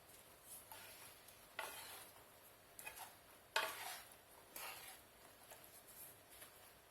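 A utensil stirs chestnuts and mushrooms in a frying pan, with several soft scraping strokes and clinks over a faint sizzle, quiet and close.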